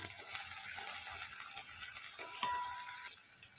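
Onions and chillies sautéing in a pan, a steady soft sizzle with faint stirring scrapes and a brief metallic ring partway through, continuous and close with no talking.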